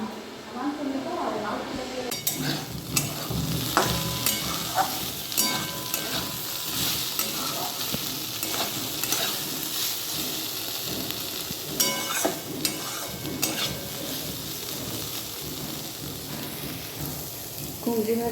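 Round pumpkin slices frying in a pan, a dense crackling sizzle running throughout with occasional utensil clinks, close and fairly loud, with voices talking over it.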